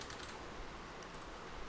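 Faint, steady tapping on a computer keyboard, with quick soft clicks at an even rhythm under low room noise and no voices.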